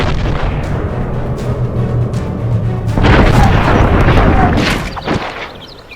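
A gunshot from the video game Red Dead Revolver cracks out as a sharp burst midway, over a low droning background score with a fainter crack shortly after.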